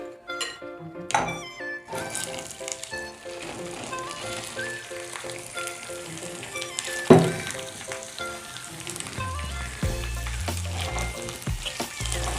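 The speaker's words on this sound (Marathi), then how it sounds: "आता तेल चांगलं गरम झालं आहे, आता भेंडी आपण टाकून घेऊ" Okra sizzling as it drops into hot oil in a home kitchen, a steady close frying crackle with clinks of a utensil stirring and a few knocks from the pan.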